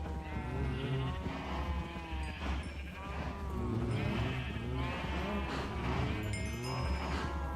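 A crowd of Minecraft cows mooing and bleating loudly all at once as they are bred, overlapping calls filling the whole stretch with no pause, close and dense.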